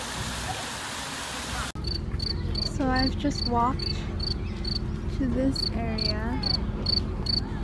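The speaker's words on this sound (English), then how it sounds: "you can hear the crickets chirp." Regular rhythmic cricket chirps pulse steadily in the background while a person speaks nearby on a promenade in Interlaken near a church and small bridge, with a flowing water hiss underneath.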